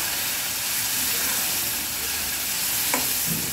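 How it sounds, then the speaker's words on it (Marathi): Cooked urad dal tipped into a sizzling tempering and stirred, giving a steady, close hiss and frying crackle that runs unbroken throughout, with no voices. "आता शिजलेली डाळ टाकायची"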